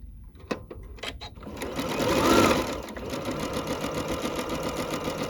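A Janome 15000 sewing machine sewing a concealed zipper runs in a steady, rapid mechanical stitching rhythm, close and continuous after a few clicks at the start, with a voice speaking briefly over it.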